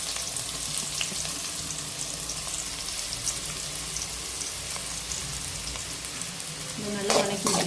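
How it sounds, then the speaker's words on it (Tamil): Sliced onions fry with fennel seeds in hot oil in a kadai, giving a loud, steady, close sizzle with soft crackles throughout and a brief stir near the end. "சோம்பு பொரிஞ்சதும் வெங்காயம் கட் பண்ணி வச்சுட்டு போட்டுக்கலாம்"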